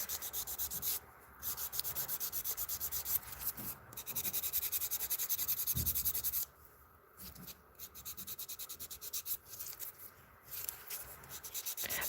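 Rhythmic, close scratchy rubbing of a buffer lightly working over an acrylic nail tip, in repeated back-and-forth bursts with short pauses between strokes.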